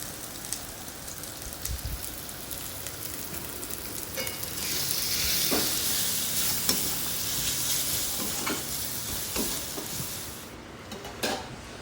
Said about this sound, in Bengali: সব কিছু আবার ভালোভাবে কষিয়ে নেব অল্প জল দিয়ে।